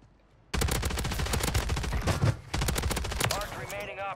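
Submachine gun fire in a Warzone match, an SMG ripping off two long rapid bursts up close after a moment of quiet, with a short pause between them and ringing shell casings or effects trailing at the end.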